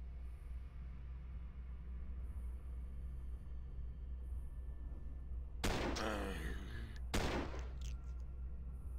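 Two sharp, loud rifle shots ring out from the sci-fi tactics video game Stellar Tactics, a second or so apart, over a low steady background hum.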